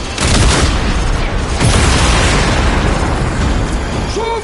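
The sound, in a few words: valve shot to release pressure in Warframe video game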